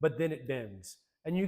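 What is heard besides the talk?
No distinct noise like a dog, phone or traffic.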